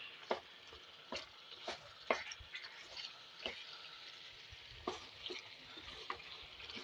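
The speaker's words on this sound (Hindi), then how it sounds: "अब मज़ीद इसको भूनेंगे।" Chicken masala frying in oil in a kadai, a soft continuous sizzle broken by sharp scrapes and clinks of a spoon stirring at irregular intervals.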